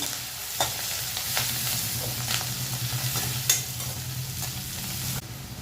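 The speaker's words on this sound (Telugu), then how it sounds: "వేసి బాగా వేపండి. జీడిపప్పులు కూడా వేస్తున్నాను నేను" Cashews and a tomato rice base fry in a pan with turmeric, a steady close sizzle broken by the scrape and clack of a stirring spoon, with no voices.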